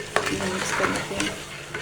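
Boiled chana dal is stirred into fried spinach in a pan, with a continuous sizzle broken by several sharp scrape-and-clack strokes of a spoon, close up and with no talking.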